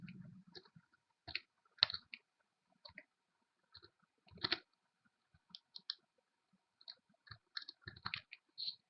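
Scattered quick mouse clicks, single and doubled, sound close and crisp against near silence while working in CMG reservoir simulation software.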